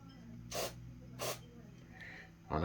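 Two short, sharp spritzes of cleaner sprayed for cleaning the connections of an SF1000 sim-racing wheel, close and separated by a brief pause, followed by a faint clatter.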